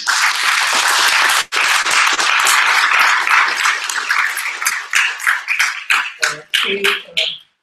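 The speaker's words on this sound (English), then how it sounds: "A round of applause for Sainath." An auditorium crowd gives a round of applause for a speaker at a talk on inequality and India's agrarian crisis: loud, close, dense clapping that thins into separate claps and stops, with a voice briefly heard near the end.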